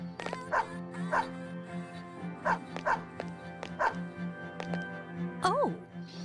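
Koromaru, a dog in Persona 3 FES, gives a series of short, sharp barks and yips at a steady rhythm over a game music bed, ending with a rising whimper-like yelp, close and clear.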